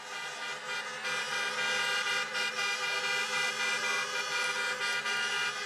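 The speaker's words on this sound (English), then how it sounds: "Honk your horn." Car horns honking at an outdoor presidential campaign rally in Pittsburgh, overlapping steady horn tones held for several seconds from a crowd of parked vehicles, with no voices over them.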